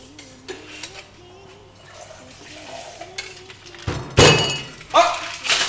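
A classic Mexican margarita is shaken in a cocktail shaker: after quiet talk, loud rattling thunks of ice break out in bursts near the end, close and sharp.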